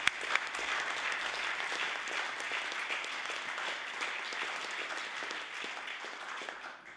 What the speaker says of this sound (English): I would ask members to give them a warm welcome of applause as they rise